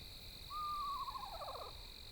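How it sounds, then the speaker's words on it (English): An owl gives a single drawn-out, wavering screech-like hoot that trails off over about a second, clear and prominent above a steady background hum. "Hope you enjoy my cute owl, who's not sinister or malicious at all."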